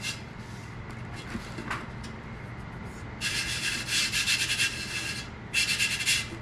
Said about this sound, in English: I'm taking a little bit of baking soda and I'm rubbing it in